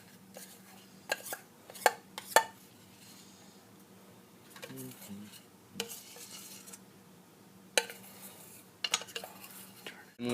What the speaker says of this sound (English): Evenly distribute the chocolate on the bars